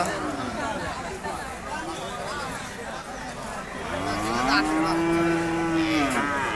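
Cattle at a busy livestock market let out a long, deep moo near the end, rising over a steady background of crowd chatter and hubbub.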